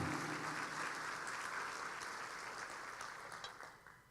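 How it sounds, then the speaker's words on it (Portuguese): A church congregation applauds during a sermon, a dense, steady clapping that stays fairly even and fades toward the end. "Dê um aplauso a Ele."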